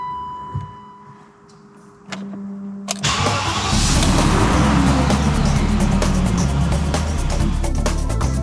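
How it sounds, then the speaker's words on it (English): A BMW E38 735i V8 car starts up in a workshop after a few quiet clicks and a whirr, then settles into a loud, steady running engine close by as it moves, with no talk. "Now is the time to see if, finally, we can move the car out of the workshop."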